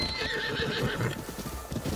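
A horse whinnies loudly over steady clip-clop hoofbeats in Zelda: Breath of the Wild, with a continuous game-like background texture throughout.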